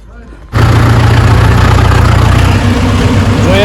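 A tractor engine starts up partway through and then runs steadily at a loud, close idle with a low, even rumble, heard before setting off down a dirt track in first gear.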